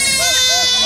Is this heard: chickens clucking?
no